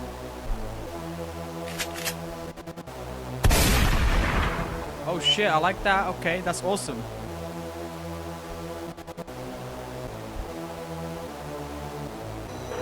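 A hip-hop beat made in Logic Pro X plays back with steady booming bass tones and a punchy hit section in the middle, while a man reacts excitedly over the music.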